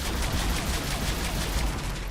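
Gunfire in the video game Mass Effect 3: a dense, continuous fusillade of rapid shots and explosive crackle, loud and close throughout with no pauses and no talk.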